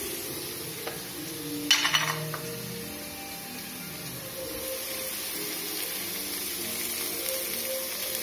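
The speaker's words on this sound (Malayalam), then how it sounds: "കുറച്ചൊന്ന് ബ്രൗണിഷ് ആവുന്നവരെ നമ്മളിങ്ങനെ വഴറ്റി കൊടുക്കാം." Onions with a pinch of salt sauté in a pan while ladies' finger fry is being made. A soft steady sizzle runs under a brief burst of scraping stir noise early on, then settles back to a quiet hiss, with no voices.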